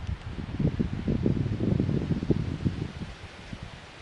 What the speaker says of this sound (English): it's just nice to sit here and listen to the breeze